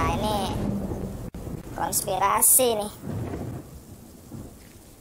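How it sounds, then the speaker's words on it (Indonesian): Rain and thunder in the video game Death Stranding: a continuous rainy hiss with low thunder rumbling underneath, while someone talks over it throughout. "Ini sekarang hujan, coy."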